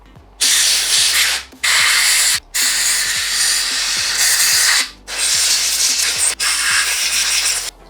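Compressed air blasts loudly through the cleaned parts of a paint spray gun in several long hissing bursts separated by brief silent gaps.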